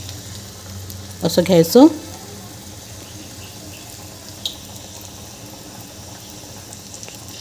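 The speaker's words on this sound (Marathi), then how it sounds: "एक अंगठ्याने असं गोल गोल करत वडे अलगद तेलामध्ये सोडून द्यायचे" Mixed dal vadas deep-frying in oil give a soft, steady sizzle and bubbling under a brief spoken phrase, with one faint tap partway through.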